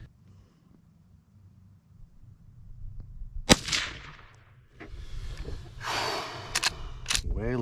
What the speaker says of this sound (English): We're going to shoot at the target right underneath that first one.